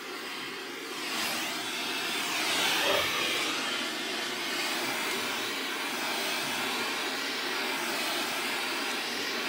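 A propane torch heats a plastic stepper motor cover on a PM727M mill so it can be formed, giving a steady, moderately loud hiss and roar that swells briefly and then holds even.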